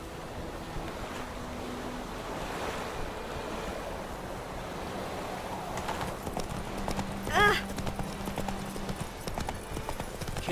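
Hooves of Roach the horse clop at a rapid gallop over wind and wave-like ambience in The Witcher 3, with voices speaking over the steady hoofbeats.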